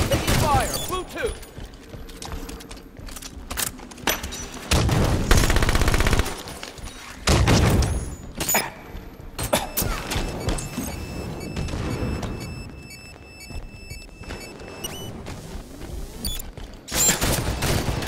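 Automatic and single gunfire bursts in the Halo 5 Guardians multiplayer beta, loud and repeated across the match, with a booming grenade-like blast and clanking mechanisms, under occasional player talk.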